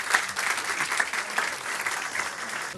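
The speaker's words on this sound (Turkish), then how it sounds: "Dance Moms'ı da bir alkışlayalım." An audience at a quiz night event applauds, a loud, dense round of clapping with a few sharper claps standing out near the front, sustained for close to three seconds.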